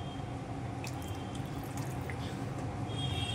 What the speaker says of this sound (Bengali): আর একটু জল দিই